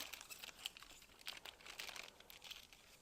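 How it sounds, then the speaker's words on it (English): Hair highlighting foil being folded twice during a salon colouring, soft close crinkling and crumpling in short irregular bursts with no talking. "I'm actually going to fold my foil twice"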